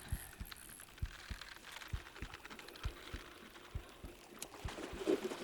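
Fish heartbeat cue in Bassmaster Fishing 2022, a faint, soft, regular thumping pulse repeating roughly twice per second over a quiet ambient bed.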